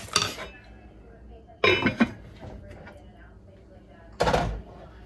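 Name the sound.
pot being put on the stove's back burner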